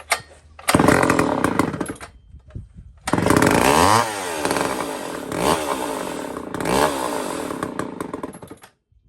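A big Homelite reed-valve chainsaw fires up with a short loud burst, drops off, then screams at high RPM for several seconds. Its howl wavers between revs before cutting out, loud and close.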